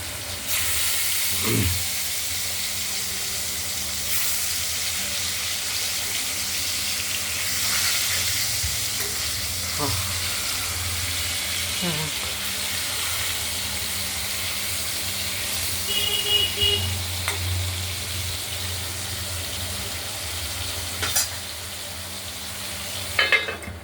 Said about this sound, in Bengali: এক এক করে সবগুলো ভেজে নেব।